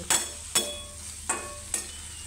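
Chillies frying in oil for a dry cowpea-pod stir-fry, a steady soft sizzle broken by four sharp stirring scrapes spaced through the clip, close and moderately loud with no voices.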